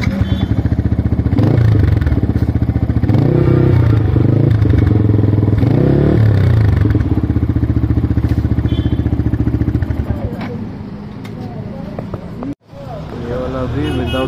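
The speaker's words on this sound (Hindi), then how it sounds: "ये वाला बहुत गंदा लाउड है। एक्रोपोबिक मैट ब्लैक में बहुत ही सेक्सी सा ये एग्जॉस्ट है एक्रोपोबिक का।" A Yamaha MT15 motorcycle fitted with an aftermarket matte black Akrapovic exhaust runs loud and close, its engine revving in repeated swells before dropping to a rougher idle, with a person talking over it.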